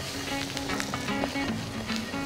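Chana dal, mustard seeds and curry leaves sizzle in hot oil for a tadka, a soft, continuous crackling fry with small pops, fairly close and alone without talk.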